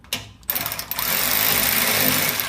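Power tool snugging fuel pump bolts on a 2001 Ford Explorer, a steady buzzing whir that starts in short bursts and then runs continuously and fairly loud, with no talk over it.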